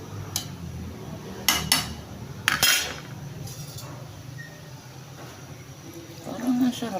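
A metal utensil stirs food in a cooking pot, giving a few sharp clinks and scrapes against the pot over a low, steady kitchen background.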